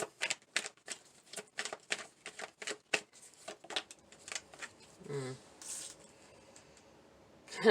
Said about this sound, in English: We're going to pull a few cards here.